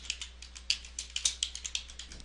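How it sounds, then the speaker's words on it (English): Typing on a computer keyboard, about a dozen crisp, irregular key clicks close to the microphone, heard alone with no talking. "I can easily rename it by hitting F2 on my keyboard"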